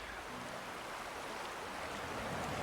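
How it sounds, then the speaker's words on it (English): Continuous river water rushing past a camp beside the river in the Grand Canyon, a steady, even wash of flowing noise, soft and unbroken throughout, with no voices. "I can hear the water in the background."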